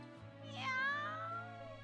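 A kitten cries in a plaintive, rising meow lasting about a second, close and clear over a steady low hum.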